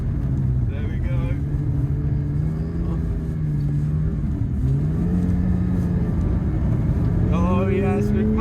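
A Porsche 911 GT3 engine pulls hard while driving in Lapland, its rising and falling tone loud and close through gear changes, with people talking over it.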